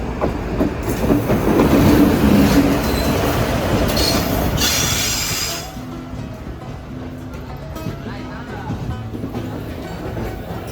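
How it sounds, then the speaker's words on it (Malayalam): A train rolls into a railway station platform on the way to Goa, with a loud, close rumble of wagons, clattering wheels and squealing that eases into a lower steady hum, with voices in the background. "നമുക്ക് ഓൺ ട്രെയിൻ വന്നു. ഈ ട്രെയിനാണ് നമ്മൾ ഗോവയ്ക്ക് പോകുന്നത്."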